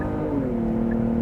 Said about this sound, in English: This is in sport mode with strong sound generator.